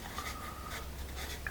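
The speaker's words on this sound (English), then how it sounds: "Also a nice writing pencil." A factory-sharpened 2015 Staedtler Norica pencil drags across paper in soft, scratchy strokes, close and fairly quiet, with no talking over it.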